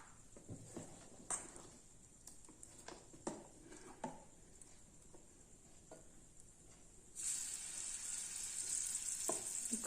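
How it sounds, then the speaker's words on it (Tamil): Ghee poured into the cups of a hot paniyaram pan, heard as soft crackles and taps before a louder, steady sizzle rises and holds for the last few seconds, close and without speech. "பணியாரக்கல் சூடாயிடுச்சு நம்ம இப்போ இது எல்லாத்துலேயும் நெய் விட்டுக்கலாம்"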